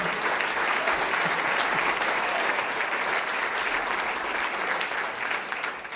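Steady, dense applause from an audience at a New York State wine awards event, cheering the award winners, filling the room evenly for several seconds with a slight fade at the end.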